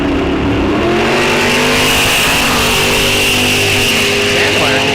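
Drag race cars launch at a bracket racing event, a loud, continuous engine roar filling the whole stretch, heard from trackside with no pauses.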